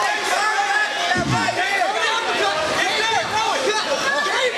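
Crowd noise at a cage fighting event, a continuous murmur of chatter and shouts from spectators filling the venue at a steady, fairly loud level throughout.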